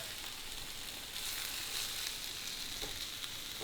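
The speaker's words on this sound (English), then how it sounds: "Now is when I'm going to do the onions." Onions sizzle in a pan for breakfast tacos, a steady, faint, hissing fry throughout with no talking.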